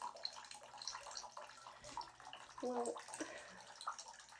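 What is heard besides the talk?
water in a bathtub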